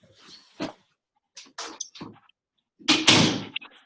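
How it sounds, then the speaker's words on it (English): A dog knocks a door open in a house near the kitchen, giving a few separate thumps and rattles with quiet gaps, then a louder clatter near the end. "The dog knocked the door open, and so you can hear everything in the kitchen."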